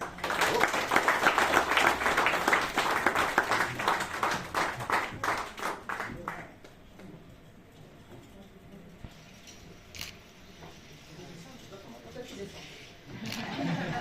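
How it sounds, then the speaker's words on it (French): Audience applause at a French local event, loud dense clapping for about six seconds that then cuts off, followed by quieter room sound with a few scattered claps and some talk. "Je vous demande d'applaudir Marina Mirkes."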